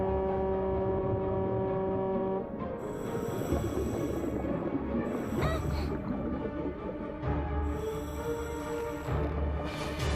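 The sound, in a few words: air horn blast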